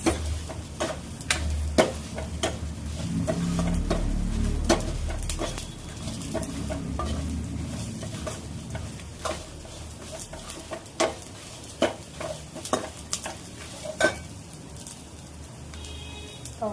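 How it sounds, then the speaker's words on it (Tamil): Coriander for mutton curry frying and being stirred in a pan: a soft steady sizzle with frequent sharp clicks and scrapes of a spatula against the metal, close and fairly quiet. "கொத்தமல்லி கருகாம பார்த்துக்கோங்க ஃப்ரெண்ட்ஸ்"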